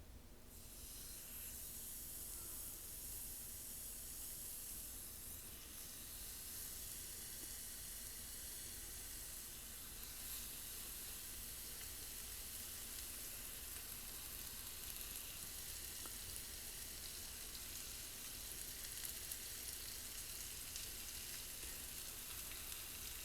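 Salmon fillets for blackened salmon sear flesh side down on a hot cast iron griddle, giving a steady, dense, close sizzle that hisses evenly throughout with no talking.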